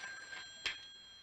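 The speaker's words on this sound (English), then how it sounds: "That's our phone." A household telephone rings in a drama scene, a steady electronic bell tone with a brief sharper burst partway through, at moderate level and with no talk.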